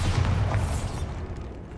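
A deep booming blast from the Bombarda spell in the video game Hogwarts Legacy, inside a tomb, with a heavy low rumble that fades out over about a second.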